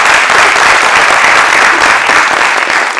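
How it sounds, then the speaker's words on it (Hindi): Loud, dense audience applause at a Hindi stand-up comedy show, a steady wash of many hands clapping at once, close and sustained throughout. "इन लोगों के लिए तालियां बजाइए"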